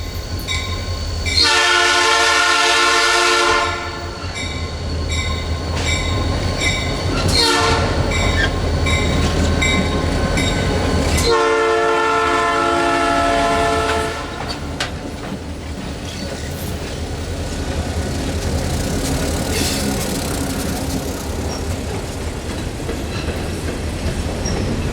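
Blue Ridge Southern train T31 rolls slowly downhill on a mountain grade, sounding two long, loud horn blasts with a short toot between them over a continuous low rumble of the cars on the rails.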